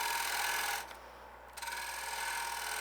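A sharp gouge scraping wood on a lathe with negative rake, a steady close rasping hiss with a brief quieter gap in the middle before the cut resumes.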